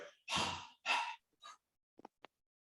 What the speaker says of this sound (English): We do the Ujjayi breathing. Ujjayi is the victorious breath. We breathe from the back of the throat.